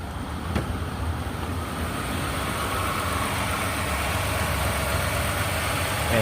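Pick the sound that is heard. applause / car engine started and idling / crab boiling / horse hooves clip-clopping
car engine started and idling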